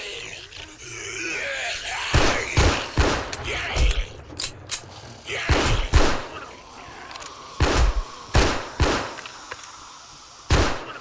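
A gun fires at a zombie in 7 Days to Die, a dozen loud sharp shots spaced irregularly over several seconds, with mechanical reloading clicks and a low ambient hum between them.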